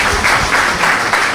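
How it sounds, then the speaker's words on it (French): An audience at a doctoral schools ceremony breaks into loud, dense applause, many hands clapping together in a steady roar with slight surges. "Je vous demande de l'applaudir, s'il vous plaît."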